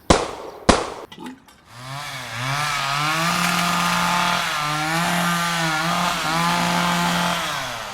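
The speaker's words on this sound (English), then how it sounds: "churning with the sounds of a chainsaw, sawing the flesh of Carranza's first husband" A chainsaw in a cozy apartment in Vienna, Austria, starts with a few sharp clattering pulls, then its engine catches and runs loud and near, revving up and down in a wavering drone.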